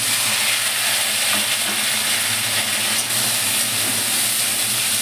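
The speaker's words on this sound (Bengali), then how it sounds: "উচ্ছেগুলো দিয়ে একটু আমি ঢাকা দিয়ে ভাজা ভাজা করে নেব।" Steady, dense sizzling of bitter gourd frying in a hot pan with spices, continuous and fairly loud throughout with faint stirring.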